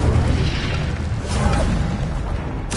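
Incendio fire spell cast in a Hogwarts video game, a loud continuous fiery roar and rumble that bursts briefly at the end.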